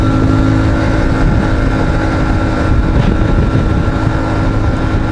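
A CFMOTO 450 MT motorcycle engine drones steadily at about 110 km/h and roughly 6,300 rpm, a loud constant hum mixed with heavy wind rush and no talking.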